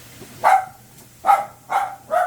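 Dogs bark indoors in a home kitchen, giving four sharp, fairly close barks in an uneven rhythm with short pauses between them.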